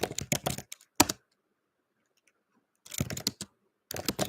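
Close computer keyboard typing comes in quick bursts of clicky keystrokes, with a long silent gap in the middle before two more short flurries.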